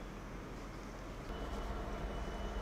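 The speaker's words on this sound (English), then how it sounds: "The train now approaching platform 5 does not stop here." A train runs through Peterborough station without stopping, a steady loud rumble of wheels and carriages that swells partway through and holds at close range.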